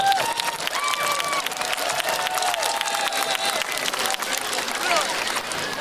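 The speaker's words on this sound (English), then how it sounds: "Let's give them a round of applause." A large outdoor audience claps steadily through an alumni band halftime show, with dense, continuous applause, some scattered cheering, and muffled voices and tones mixed in throughout.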